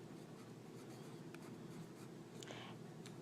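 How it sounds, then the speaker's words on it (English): A green crayon writes on paper with a faint, continuous waxy scratching that is close but very quiet under a steady background hiss, with no talking. "Then we're going to take our green crayon to match the multiply and divide, and we're going to write multiply"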